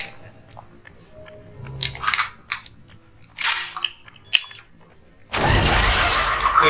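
Video game gunfire in Killer 7, with several sharp cap-like shots and crunchy impacts scattered through the clip, followed by a loud, sustained burst of noise at the end.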